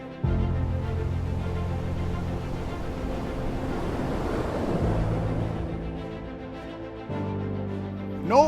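Ocean waves break and wash onto a public Oregon coast beach, with a broad surging roar that swells and recedes twice, alongside wind buffeting the microphone.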